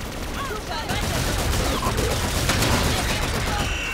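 Rapid bursts of gunfire from the video game Call of Duty Infinite Warfare fill the moment, dense and loud, with overlapping shots and faint game sounds beneath.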